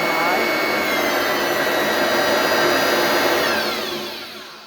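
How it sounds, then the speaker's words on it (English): A restored vacuum cleaner runs on its high setting, a loud steady whine and rushing roar that holds constant before its pitch begins to drop and fade as it spins down. "How about that for a restored vacuum?"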